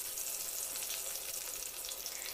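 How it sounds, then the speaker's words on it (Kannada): Garlic frying in hot oil with mustard seeds and cumin gives a steady, dense sizzle that holds evenly at close range, with no talking. "ಬೆಳ್ಳುಳ್ಳಿಯನ್ನು ಹಾಕಿ ಬೆಳ್ಳುಳ್ಳಿ ಸ್ವಲ್ಪ ಫ್ರೈ ಆಗಲಿ"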